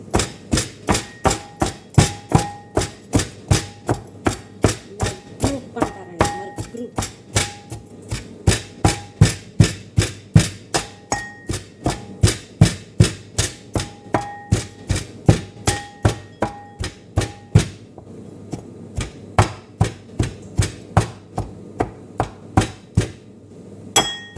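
Food being pounded and mashed by hand with a heavy implement for a bossu dish, a long steady series of sharp, evenly spaced thuds close by, one blow roughly every half second, with no talk.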